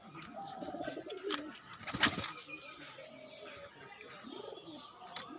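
Pigeons, including a young local pigeon, coo softly and repeatedly while being fed puffed rice, with a brief clatter midway and a faint voice in the background.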